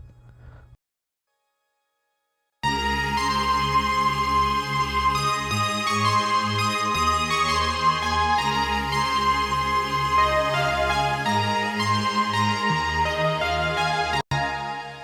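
Layered synthesizers in an indie pop song, including a bright, breathy pad sitting high above the mix. They play together in a dense, steady full arrangement after a brief quiet opening, loud and close with no talking.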